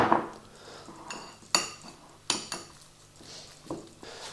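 A fork mashes a banana in a bowl, giving a few sharp, separate clinks of metal against the bowl with quieter scraping and squishing between them, close and alone.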